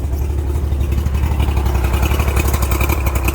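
A party barge boat engine running steadily in reverse gear, a low continuous idling rumble with a faint rhythmic clatter that holds at an even level, close by and alone.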